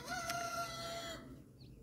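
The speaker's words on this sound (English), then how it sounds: "It's my new little chickens." Newly hatched baby chicks chirping close by in short, thin peeps over a soft background hum, fading after a second or so.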